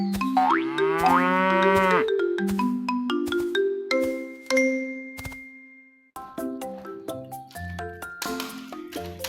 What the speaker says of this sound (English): Wow, it's a tiny cow.